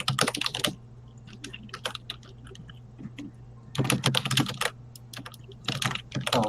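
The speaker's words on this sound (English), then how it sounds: "That is the loudest keyboard in the universe, Jonathan." Very loud computer keyboard typing, close and harsh, in dense rapid bursts at the start, in the middle and near the end, with quieter scattered keystrokes between them over a steady low electrical hum.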